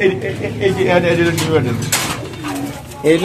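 Pigeons cooing among the cages at a busy pigeon market, soft repeated coos mixed with close speech and crowd noise.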